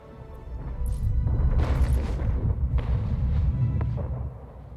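Cannon fire and explosions pounding a cannon tower in Anno 1800, a dense rolling barrage of loud booms and crashes that swells and stays heavy throughout.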